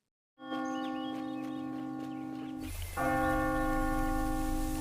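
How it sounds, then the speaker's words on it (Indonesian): A sect's heaven-and-earth warning bell ringing, a loud sustained metallic toll with a long humming ring-out, struck again near the end to renew the resonance, with no voices. "lonceng peringatan langit dan bumi dibunyikan untuk mengumpulkan para muridnya"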